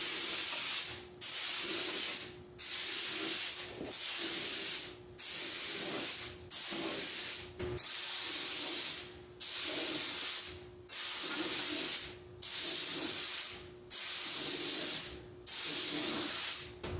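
Spray gun laying a light dust coat of paint on a Volkswagen GTI part: about a dozen steady, close hissing bursts of roughly a second each, separated by short pauses, with no talking.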